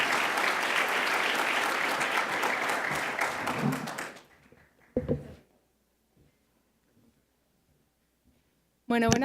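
Strong applause from a seated audience at an evening session, loud and dense for about four seconds, then fading quickly into near silence with a few scattered sounds and a brief voice.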